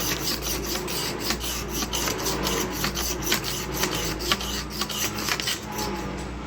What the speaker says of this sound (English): Sandpaper time, I think.